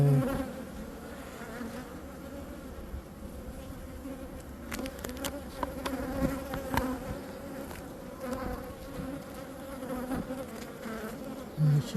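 Honey bees buzz steadily around an open hive during a nectar dearth, a continuous close hum of many wings with a few louder passes near the microphone, no talking.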